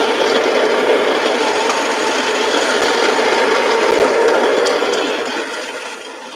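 Coffee grinder grinding beans to a fine setting for syphon brewing, a steady dense whirring grind that holds loud and even for several seconds before easing slightly toward the end, with no talking.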